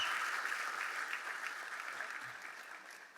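A large crowd at a Southern Illinois town hall on gun control claps steadily, a dense, fairly distant patter of many hands that fades slightly toward the end.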